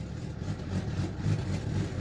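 A car engine, suspected blown with the check engine light on, idles low and steady as it pulls into a garage, a rumbling hum with slight swells and no talk.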